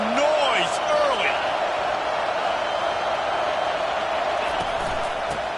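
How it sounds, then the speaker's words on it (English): Stadium crowd roar from College Football 25, a broad, steady wash of cheering that holds throughout, with a few whistle-like whoops and a commentator-style voice near the start. "This crowd bringing the energy and noise early."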